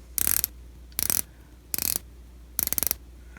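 A Christopher Ward C65 Dartmouth Blue watch bezel turned by hand in four short bursts of crisp ratcheting clicks, close and clear against a quiet background.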